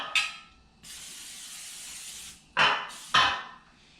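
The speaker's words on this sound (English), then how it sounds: "take some spray oil and spray down our pan" Cooking spray hisses onto a donut pan in short bursts: a quick puff, then one longer steady spray lasting over a second, then two more sharp spritzes close together, all near and fairly loud with no talk.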